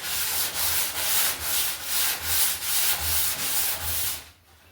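400-grit sandpaper on a long sanding block works body filler on a 1966 Mustang drag car, about ten even back-and-forth rasping strokes in steady rhythm, close and clear, then stopping.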